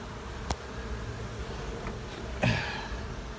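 A dense, steady hum of many honey bees buzzing close by in a hive, with a couple of brief clicks and knocks.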